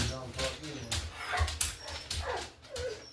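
A dog named Thor whimpers and yips nearby to be let in, short whiny cries in uneven bursts mixed with talking.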